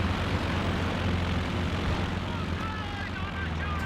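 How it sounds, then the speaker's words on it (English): Stuka close air support planes called in during a Company of Heroes 2 match, a steady droning propeller-engine roar holding level throughout, with a voice talking over it. "brings in the Stuka close air support planes in conjunction with the artillery flares"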